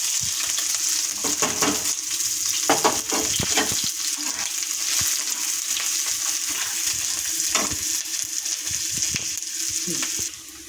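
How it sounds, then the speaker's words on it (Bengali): Chopped onion and green chilli frying in hot oil make a loud, dense, continuous sizzle with bursts of stirring and scraping in the pan, close and unbroken until it drops off near the end. "তেলটা গরম হয়ে গেছে। এবার দিয়ে দেবো পেঁয়াজ কুচি আর লঙ্কা, কাঁচা লঙ্কা কুচি"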